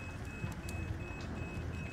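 Proximity mines in the video game Resident Evil Village beep in a steady, evenly spaced pattern, a thin repeated electronic tone heard over a low rumbling game background.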